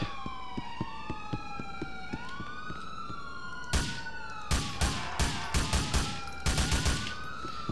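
A burst of rapid gunfire rings out in GTA IV with the LCPDFR police mod, loud cracks in quick clusters over a wailing police siren that sweeps up and down throughout.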